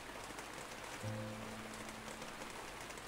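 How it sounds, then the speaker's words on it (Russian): Soft, steady rain falls in the video game DISTRAINT, a faint continuous patter with a brief low musical tone sounding partway through. "Дождь этот."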